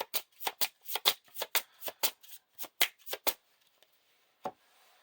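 Cards from a game deck being riffle-shuffled by hand, with a dozen crisp, rhythmic bursts close up, then a pause and a single final snap.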